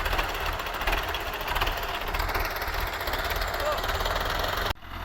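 A Russian Power 510 tractor engine runs steadily near a sugarcane field, hauling a trolley. It makes a loud, close, rhythmic diesel knocking throb that drops sharply just before the end.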